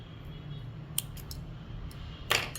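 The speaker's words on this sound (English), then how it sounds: "I'll cut my yarn and pull through and cut off the excess strand." Scissors snip through crochet yarn after a chain foundation row, giving a few faint, quick clicks followed by a louder, crisper closing snip, all heard close up over a quiet room background.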